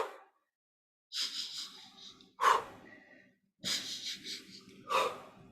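A person does a bunny-breath breathing exercise, making bursts of quick sniffing nasal inhales followed by breathy exhales. The sounds are close and fairly loud, grouped in repeated cycles with short silences between.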